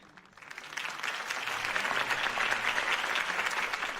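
Applause from a large crowd in the video game Batman: The Telltale Series swells up after a quiet start and continues steadily, a dense wash of clapping with no voices standing out.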